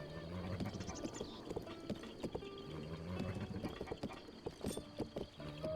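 Horse hooves clip-clop in the video game Breath of the Wild, a steady rhythmic trot of game sound effects at moderate volume, alone without talk.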